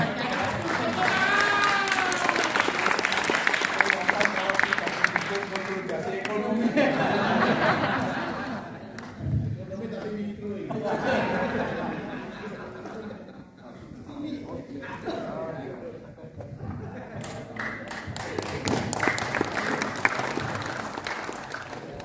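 A crowd applauds the PBNU chairman, Kiai Haji Yahya, at a formal gathering, with sustained clapping that swells and fades over and over, mixed with chatter and a voice on a microphone.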